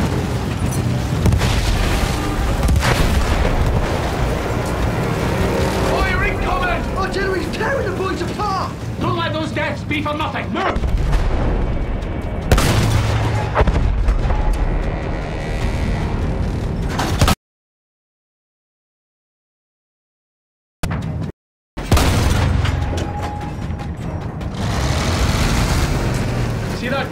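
Battlefield 1 campaign combat with heavy explosions, rumbling booms and weapon fire layered with game voices and engine noise, loud and dense, cut by a stretch of silence before resuming.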